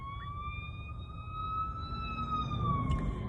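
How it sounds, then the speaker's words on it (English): Ambulance siren passing on a street, a steady wailing tone that swells slightly louder midway, heard at moderate distance over low traffic rumble. "there's an ambulance coming"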